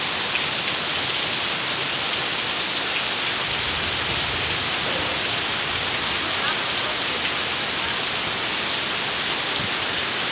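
Heavy rain pours steadily through a storm over Vientiane, a dense, even wash of noise that holds at constant loudness for the whole stretch with no pauses.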